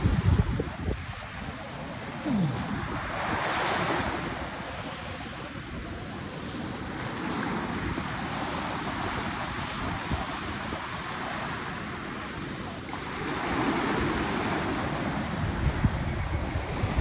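Pacific Ocean surf on a beach near Lincoln City rolls in as steady, loud waves in swelling surges, with strong wind buffeting the microphone.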